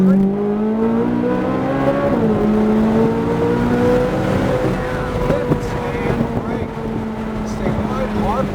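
A supercar accelerates hard, its loud engine note climbing steadily and shifting pitch, with wind rush and some talk close by.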